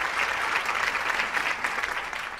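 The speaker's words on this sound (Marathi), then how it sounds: "खूप तिच्यासाठी सुंदर टाळ्या खूप वाजवा." Audience applause at a Marathi talk show taping, a full, steady wash of many hands clapping at once, sustained and fairly close throughout with no break.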